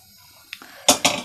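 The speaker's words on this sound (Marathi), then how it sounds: "आता मी कढई तापत ठेवते आधी." A metal kadhai is set down on the stove, giving a soft knock and then two bright, ringing clanks close by.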